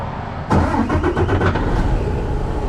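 A car engine cranks and catches after its batteries were replaced and terminals cleaned, with a burst of rapid starter pulses settling into a loud, steady idle close by.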